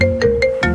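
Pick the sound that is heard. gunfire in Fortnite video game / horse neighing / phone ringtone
phone ringtone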